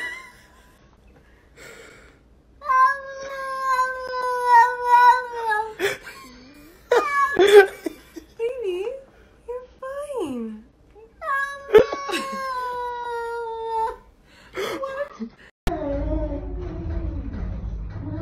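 Cats meow and vocalize in long, drawn-out, pitch-bending calls that sound almost like words, close and loud, with pauses between phrases and a burst of noise at the end.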